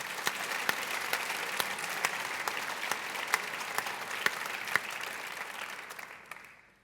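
Steady audience applause fills a church during a university anniversary ceremony, with a few sharper claps standing out from the dense patter before it fades away near the end.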